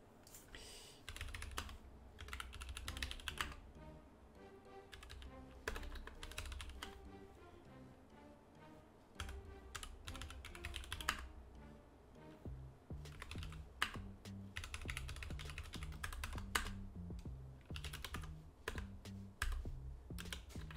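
Rapid typing on an AZERTY computer keyboard, dense clusters of clicky keystrokes in uneven bursts with short pauses, close and fairly loud, running continuously for about twenty seconds alongside soft background music.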